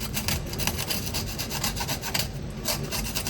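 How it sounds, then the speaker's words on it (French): Small knife scraping excess tuile batter from the edges of a silicone mold, a steady rapid rasping rub in short repeated strokes, close and continuous with no talk. "un petit couteau et là délicatement je vais venir gratter un peu les bords pour enlever le surplus"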